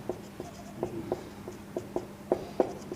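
Pen or chalk strokes writing a word by hand, a series of short scratchy taps in an uneven rhythm, close and fairly clear with no talk over them.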